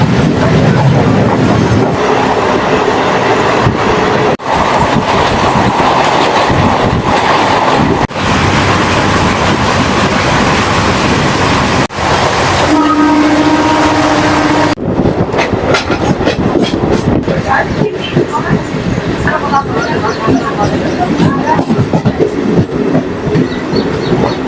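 An Adra–Barkakana MEMU special train runs steadily with loud continuous rumble and rhythmic clatter of wheels on rails, a brief horn tone sounding partway through before the clatter turns sharper.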